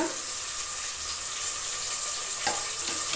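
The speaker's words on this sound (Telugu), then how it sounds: "బిర్యానీ ఆకు వేసుకున్నా. కరివేపాకు వేసుకున్నా, పుదీనా వేసుకున్నా." Curry leaves and mint fry in hot oil for a goat head curry, with a continuous close sizzle and a faint scrape or stir partway through.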